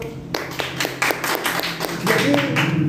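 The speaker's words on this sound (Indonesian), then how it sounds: "Tepuk tangan dulu." A few hands clap in a steady, brisk rhythm, close by, with some talking joining toward the end.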